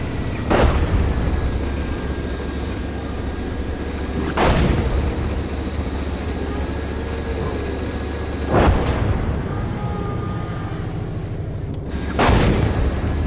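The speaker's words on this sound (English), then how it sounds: "they are now getting peppered with the artillery" Artillery fire in the PC game Gunner Heat during a Leopard A1A2 mission: four heavy, booming shots land roughly four seconds apart, each with a rolling tail over a low continuous rumble.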